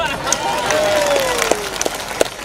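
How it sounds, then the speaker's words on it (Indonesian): Audience at an Indonesian Islamic sermon breaking into applause, a dense wash of many hands clapping with scattered sharper claps and a voice speaking over it. "Jangan asal tepuk tangan aja."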